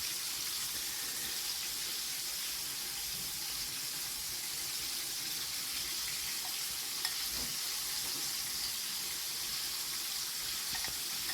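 Chicken frying in hot oil, a dense, even hiss and crackle that runs without a break at a steady level, with no voices.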